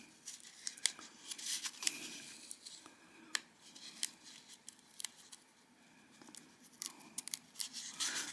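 Paper backing being peeled off fusible appliqué fabric, with a series of crisp tearing and crinkling sounds in quick irregular bursts, close and fairly quiet.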